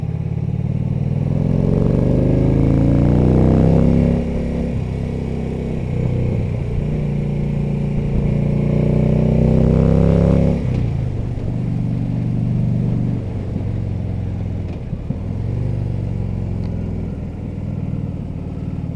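A Harley Davidson Electra Glide cruising a bumpy, cracked country road, its engine a steady low rumble with a strong rev-up early on, then easing off to a lower, uneven burble with wind noise, heard close and loud.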